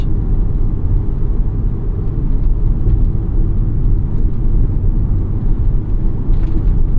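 A 2004 Volvo S60R cruises in comfort suspension mode, its engine and road noise forming a steady, loud low rumble inside the cabin with no talking.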